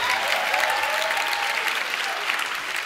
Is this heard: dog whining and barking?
no